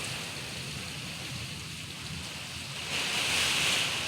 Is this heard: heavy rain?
yes